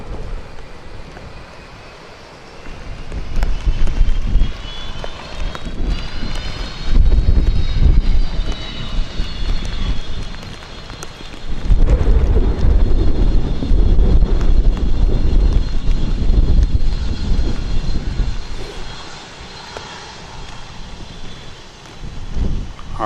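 Boeing 757s with RB211 engines at Manchester Airport in wet, windy weather, jet roar swelling and fading in long loud waves with a rising whine and gusts of wind noise over the microphone.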